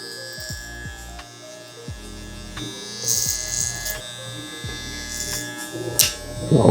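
Electric hair clippers fitted with a number 3 guard buzz steadily up close as they trim short side hairs during a taper cut, with a constant motor hum and small bumps and scrapes from the work.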